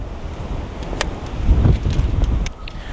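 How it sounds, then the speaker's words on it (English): Strong gusting wind buffets the microphone outdoors at a rifle range, producing low rumbling bursts that swell loudly near the middle, with no one speaking. "The wind is awfully strong today, and it just blew my target camera and my chronograph tripod over."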